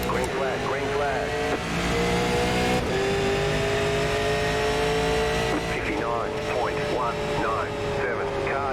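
Super Late Model race cars roar and rev at the green flag start at Iowa Speedway in iRacing, a dense continuous engine drone with rising pitch sweeps from several cars, loud throughout, with a voice talking over it.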